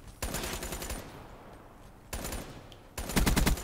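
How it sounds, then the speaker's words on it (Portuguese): A minigun in Black Ops 3 fires three rapid, buzzing bursts, with a short pause after the first. The last burst is the loudest and closest. "Tá atirando comigo."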